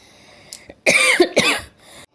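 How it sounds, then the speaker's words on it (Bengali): A woman with an irritated, scratchy throat lets out a short burst of harsh coughs, two or three close, loud hacks in quick succession, then quiet. "সরি সরি সরি কাশি হয়ে গেল"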